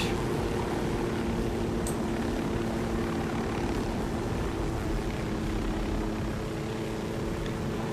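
A helicopter in Ghost Recon Wildlands drones continuously in flight, a loud, dense rotor and engine roar holding steady throughout with no speech.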